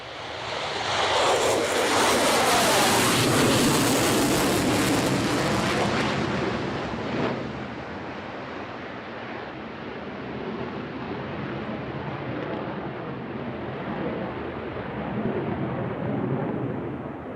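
An F-16 fighter jet takes off at the Farnborough International Airshow, its engine roaring loud and close with a harsh blast that peaks early, then recedes into a long fading rumble as it climbs away.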